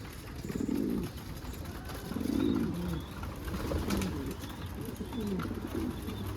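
Several pigeons coo in a coop nearby in low, throaty, repeated calls that overlap, over a steady background hum.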